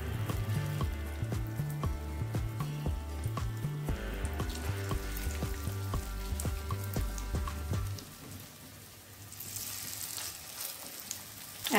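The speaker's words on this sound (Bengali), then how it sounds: "এবার আমি শাপলাটা প্রথমে ভেজে নিচ্ছি।" Water lily frying in hot white oil in a heated kadai, a steady dense sizzle with crackling that runs throughout, easing somewhat toward the end, with no voices.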